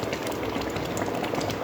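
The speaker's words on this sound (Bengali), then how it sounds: "এবারে টকবক করে ফুটে থাক।" A pot of sweet mung dal comes to a rolling boil, with a dense, continuous bubbling and gurgling that stays close and steady.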